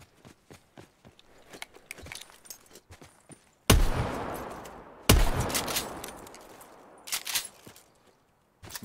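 Shotgun blasts in Call of Duty: Blackout, two loud booming shots with long decaying tails, set among lighter clicks and footsteps and a cluster of quieter shots near the end.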